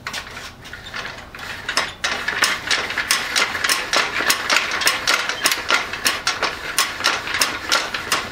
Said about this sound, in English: By pulling out on this handle and raising it up, I can set this so that it clamps down on this board.